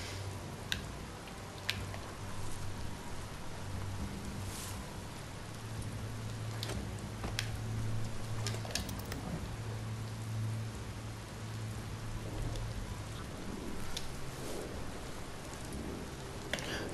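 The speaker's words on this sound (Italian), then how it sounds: "Sta iniziando a piovere." Steady rain falling in the video game Biomutant, a continuous broadband hiss with scattered drop ticks and a low hum underneath, alone without talk.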